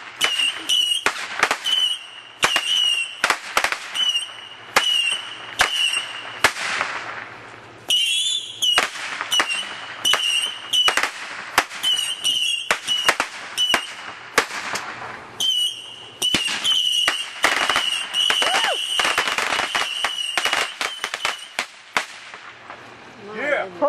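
Fourth of July fireworks volley of roughly a hundred shots, loud sharp bangs and crackles firing in rapid, irregular bursts, with whistling streaks between them and voices of onlookers underneath.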